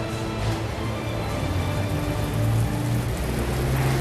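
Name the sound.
film set rain machine pouring artificial rain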